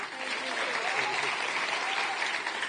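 An audience applauds at a live event: dense, steady clapping from many hands, fairly close and even in loudness throughout, with no pauses.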